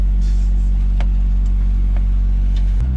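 A car engine runs steadily at low speed while warming up, a constant loud low rumble throughout with faint brief ticks above it and a slight shift near the end.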